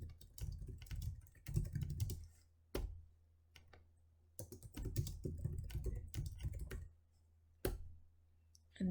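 Bursts of computer keyboard typing come close and clear, with rapid key clicks separated by short pauses, as a description is entered into a site-checking tool.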